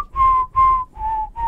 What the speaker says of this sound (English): It's the whistle song.